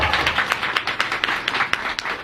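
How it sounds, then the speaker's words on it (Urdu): An audience at a Christian religious seminar claps loudly in a fast, steady, rhythmic beat, close and sustained with no talking. "تالی زور سے بجاؤ"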